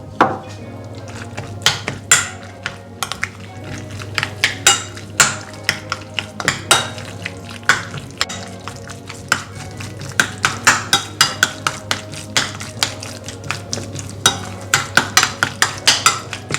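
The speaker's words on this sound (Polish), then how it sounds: "Majonez. I mieszamy." Spoon scraping and clinking against a bowl while mayonnaise is stirred into an artichoke and salmon spread with salt and pepper, a steady run of close, sharp metallic taps and scrapes over a low kitchen hum.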